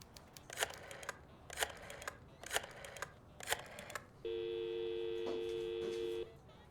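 Telephone on a wall in a detective video game: four clattering dial or button clicks in an even rhythm, then a steady electronic line tone that holds for about two seconds and cuts off.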